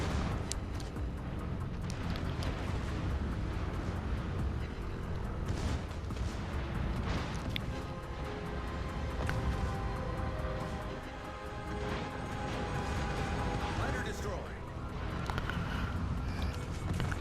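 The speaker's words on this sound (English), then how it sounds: "Here are the secondaries going." Secondary guns of the battleship Graf Zeppelin fire nonstop in World of Warships Legends, a dense, heavy barrage of booms and rumbling blasts that runs on without a break beneath the ongoing battle noise.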